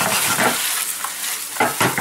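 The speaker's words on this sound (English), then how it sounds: "we're gonna deglaze with white wine" Swiss chard in a hot pan sizzles after white wine is poured in to deglaze, with a spatula scraping and stirring in short bursts over a steady hiss, heard up close.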